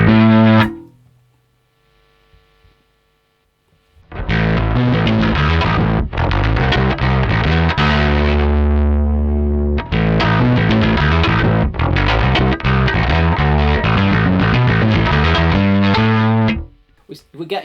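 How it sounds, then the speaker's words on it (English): Bass guitar played through a Tech 21 SansAmp VT Bass preamp with the drive cranked up, giving a nasty, heavily distorted tone in a dense run of notes and chords after a short pause and a lone opening note. "we're getting this sort of very, very nasty distortion"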